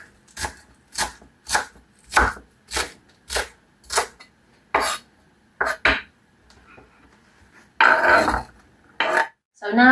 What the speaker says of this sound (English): Meanwhile, I'll chop the celery.